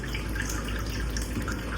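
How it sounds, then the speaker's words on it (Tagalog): Water gushes and splashes steadily as the first water from a newly fixed supply is poured out and discarded, a continuous close rushing with no voices. "Ang unang tubig tatapon muna namin."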